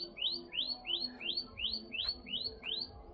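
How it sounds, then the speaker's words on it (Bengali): A bird repeatedly calls in the Aravalli hills, a clear series of about eight sharp rising notes in steady rhythm over faint background murmur, fairly close. "মনে হচ্ছে খুব সুন্দর একটা পাখির ডাক শুনছো"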